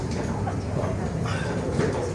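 A Rome metro train rolls along underground with a steady, loud rumble and rattle, heard from inside for a couple of seconds.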